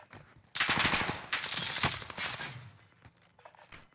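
Rapid bursts of video game gunfire, a dense rattling volley followed by a second sustained burst and a sharp crack, fairly close and loud, fading to quiet after a few seconds.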